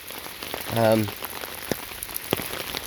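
Steady rain patters across a surface, with a few sharper drops and a short tonal hum partway through; no talking.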